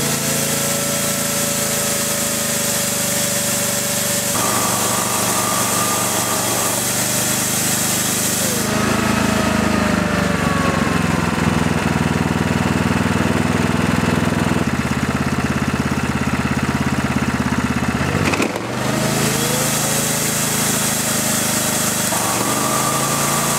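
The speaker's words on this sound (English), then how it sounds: "With the QPT switch on, the engine RPM adjusts according to the load." A Briggs & Stratton Q6500 QuietPower inverter generator runs close by with its engine speed adjusting to load, holding a steady hum that shifts pitch and loudness in distinct steps, with brief dips and surges as the load changes.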